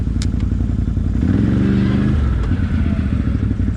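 The Kodiak off-road vehicle's engine drones steadily in a video game, a loud, rough motor hum with a brief rising rev in the middle and some clattering over bumpy ground.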